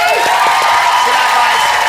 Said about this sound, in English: Round of applause for our judges, everybody!